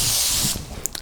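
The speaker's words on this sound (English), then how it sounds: "I just give it a little spray to help it stay in place" A short hissing burst from a spray bottle onto quilting fabric, then a couple of quick clicks as the trigger is released.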